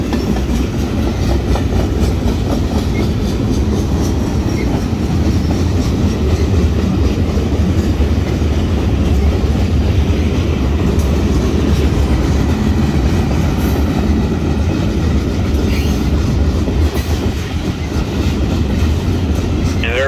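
A CN freight train rolls steadily along the track, its heavy continuous rumble mixed with a rhythmic clickety-clack of wheels over rail joints, loud and close for the whole stretch.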